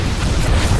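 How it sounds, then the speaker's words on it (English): A Protoss carrier blowing up in a StarCraft 2 match, heard as a continuous deep, rumbling boom that stays loud and dense for under a second with no clear onset. "I just get mesmerized by carrier explosions."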